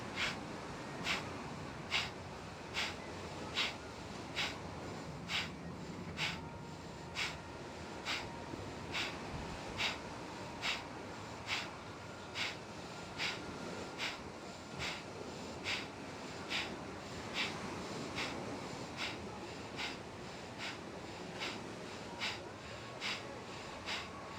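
Steady, rhythmic breathing exercise during a morning yoga and stretching session, with sharp nasal exhales repeating at an even pace about once a second and soft inhales in between, close to the microphone.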